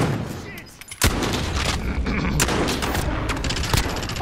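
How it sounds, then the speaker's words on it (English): Rapid SMG gunfire spraying in Call of Duty: Modern Warfare, a dense sharp burst erupting loud and close after a quieter start, with crackling shots continuing amid battle noise and occasional voices. "That fucking SMG just sprays, bro."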